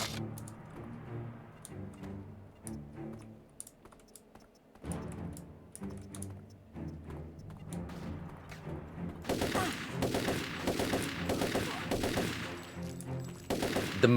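Gunfire from the first-person shooter Turok 3: Shadow of Oblivion, rapid rattling bursts and shots layered over game music, growing denser and louder in the second half.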